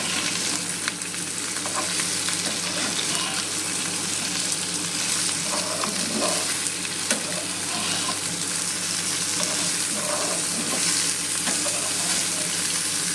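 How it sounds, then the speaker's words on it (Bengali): A Katla fish curry with green tomato sizzles loudly and steadily in a pan as it is stirred, a dense frying hiss with occasional soft utensil knocks and no talk. "এবার একটুখানি নাড়াচাড়া করে নেব"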